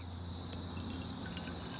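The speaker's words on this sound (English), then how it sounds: "we're going to fill this up with water to the line" Water poured into a container up to a fill line for an E85 ethanol-content test: a quiet, steady, continuous pouring wash with faint drips, no voices.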